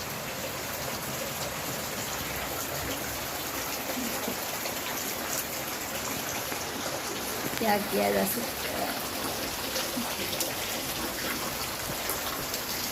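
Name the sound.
rain falling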